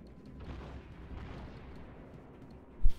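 Low, muffled naval gunfire booms rumble in the background in World of Warships, ending with one sharper, louder blast near the close.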